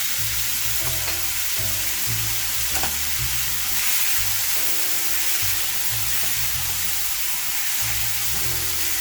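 Ginger, garlic and chili paste frying in hot oil over a medium flame, a steady loud sizzle throughout with faint stirring scrapes, close by and without talk.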